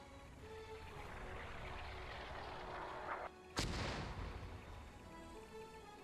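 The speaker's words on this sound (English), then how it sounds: "Oh, someone's shooting at me." Incoming artillery fire in a WW1 video game: a steady roar of distant shelling runs throughout, broken by one sharp, loud impact near the middle that leaves a rumbling tail.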